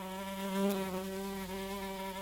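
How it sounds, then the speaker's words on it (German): A housefly buzzing in a Bavarian outhouse game scene, a steady harmonic drone that swells slightly louder midway and carries on continuously, with no talk. "Den Flugweg der Fliege berechnen."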